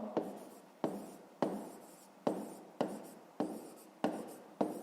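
Pen writing on paper while working a fifth-grade maths exercise: repeated short scratchy strokes, about eight sharp onsets each trailing off, close and quiet, with no talking.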